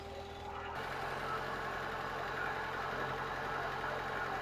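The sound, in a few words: car engine idling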